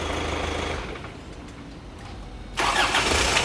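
A car engine that stalls and was towed in with multiple faults catches and starts in a workshop: a steady rumbling crank gives way to a sudden louder, broadband roar as it fires at the end, close by, with no voices.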